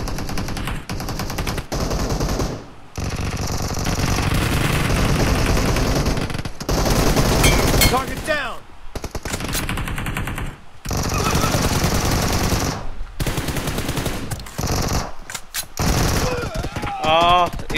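Rapid bursts of automatic gunfire from the battle-royale game BGMI, loud and dense with brief gaps, under ongoing voice chat.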